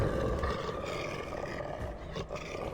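A spirit wolf in the video game Dragon Age Origins lets out a deep, rumbling roar that fills the clip, loud and close, tailing off into a lower growl amid game ambience.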